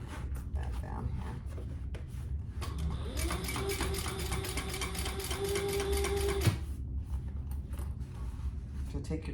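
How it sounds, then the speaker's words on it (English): A home sewing machine top-stitches the side of a fabric crossbody bag in one steady run of about three seconds, close and fairly loud, with quieter handling noise before and after. "so now we're just gonna top stitch this side"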